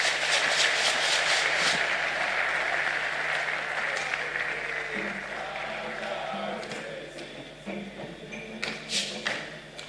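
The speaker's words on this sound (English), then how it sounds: "Another round of applause for the Chief of Staff and our Chairman for today's occasion, Honorable Julius Deborah" A crowd claps steadily, loud and dense at first, then gradually thinning and fading, with a voice speaking faintly underneath toward the end.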